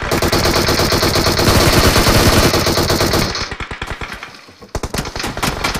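Sustained automatic gunfire in the mobile battle royale game PUBG Mobile, a loud dense stream of rapid shots that breaks into separate sharp bursts, with no talk over it.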